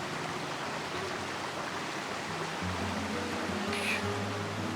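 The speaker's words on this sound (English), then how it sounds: "here we are, lunch break, just south of Hutch's Pool, sitting by the creek." Steady broadband rush of a creek flowing just south of Hutch's Pool in Arizona's Redington area, a continuous close wash of water with a faint low hum underneath.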